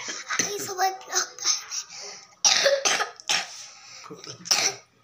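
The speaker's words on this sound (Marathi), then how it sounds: "तिला पण खोकला लागलेला" A young girl with a cough coughs and clears her throat in a series of short, close bursts indoors at her grandmother's home, with some child vocal sounds mixed in.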